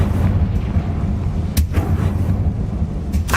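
Fire blast spell explosions go off in the Hogwarts Legacy video game, with a few short, sharp booms over a dense, rumbling low background.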